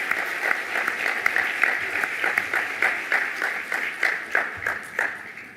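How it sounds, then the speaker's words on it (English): A large audience gives a steady, fairly distant round of applause for a group of young performers from Mongolia, with individual claps crackling through the sustained roar. "Let's give them another round of applause"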